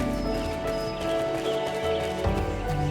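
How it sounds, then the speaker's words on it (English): Fire horse mount from the video game Final Fantasy XIV, with hoof clip-clop and a neigh over a dense game music bed, loud and continuous. "Fire horse! Flying through the sky!"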